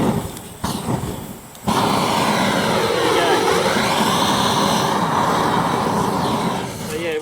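An electric fire starter blows a strong, steady roaring gust of hot air at damp firewood, loud and close after a few short bursts, with a voice talking over it.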